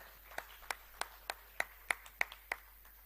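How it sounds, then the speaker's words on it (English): Sparse, isolated hand claps, about a dozen spread evenly over a few seconds, fairly faint and unhurried, like a small audience beginning to applaud at a national students' budget forum launch. "With a round of applause, let's appreciate and welcome to the podium Miss Mary Joyner."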